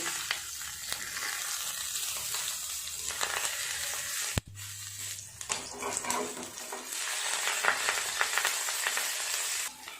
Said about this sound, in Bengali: অপর পিঠটাও এইভাবে ভেজে নেব।